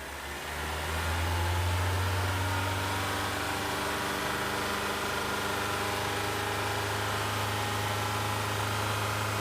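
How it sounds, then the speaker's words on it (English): A car engine idles steadily at close range while a scan tool runs diagnostics in a workshop, a continuous loud hum that settles after starting, with no talk over it. "Start the engine."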